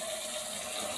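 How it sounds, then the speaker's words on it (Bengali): Chicken rinsed under a running kitchen tap, a steady, faint rush of flowing water heard alone for a brief moment. "ধোয়া হচ্ছে, ধোয়ার জন্য দেখা যাচ্ছে না"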